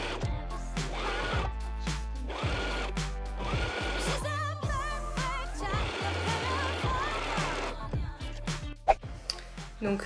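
A sewing machine runs in a steady whirring drone as it stitches fabric sleeves, with short pauses and restarts. A voice speaks faintly beneath the mechanical hum.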